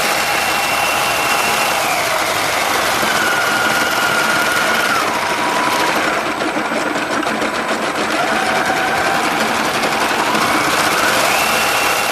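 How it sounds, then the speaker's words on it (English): A 3D-printed snowcat tracked vehicle's transmission runs steadily, giving off a loud, continuous mechanical whine and buzz with shifting motor pitch. No one speaks over it. "So there's the transmission in action."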